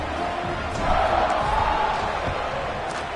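Crowd in a football video game roaring steadily after a touchdown drive, a broad sustained wash of cheering that swells slightly midway.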